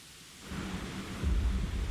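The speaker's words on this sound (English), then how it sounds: "Oh, here comes the rain." Thunder rumbles and rain sets in within the survival game Planet Nomads, a low rolling roar that swells and grows heavier over a couple of seconds, with no one talking.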